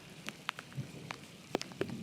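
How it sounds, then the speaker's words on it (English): Light raindrops patter onto a dusty hiking trail on the Pacific Crest Trail, a few scattered, close ticks and soft splashes at irregular intervals over a quiet background. "the raindrops are hitting the trail and then it's a dust splash"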